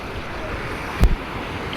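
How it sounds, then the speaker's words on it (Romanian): Big sea waves break against a rocky Spanish coast, a continuous rushing surf with wind noise and one brief heavy thump partway through. "Gen-s valuri mari și..."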